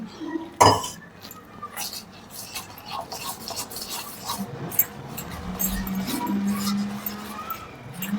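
Ghosavala bhaji batter being mixed by hand in a bowl, with a sharp clink at the start followed by continuous wet rubbing and stirring sounds and light scraping against the bowl.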